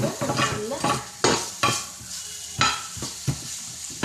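Chopped tomato and onion being sautéed in a pan for a sandwich filling, with a steady sizzle broken by repeated loud scraping and stirring strokes of a utensil against the pan, close up, with no speech.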